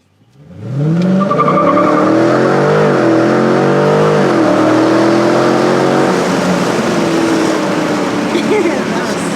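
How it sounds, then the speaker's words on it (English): A 2019 Dodge Challenger R/T Scat Pack 1320 V8 roars from a standing drag-mode launch, revving hard through rising gear pulls, loud and close throughout, with a brief voice near the start. "put it in drag mode, and give you a launch"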